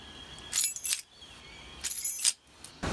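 Keys jangle in two short metallic bursts, close up and alone against quiet room tone, with a small clink at the very end.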